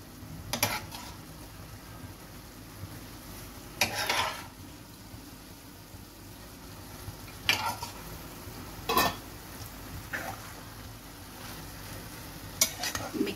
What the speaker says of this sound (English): Mix it lightly.